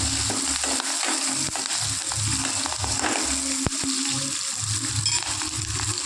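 Chillies frying in a pan for a South Indian kuzhambu, a steady close sizzle with soft scraping and stirring clatter running throughout, no voices.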